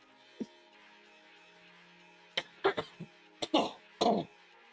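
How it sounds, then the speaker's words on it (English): A few quiet, short throat-clearing bursts and coughs, close to the microphone, spaced irregularly after a long quiet stretch. "let me clear my throat"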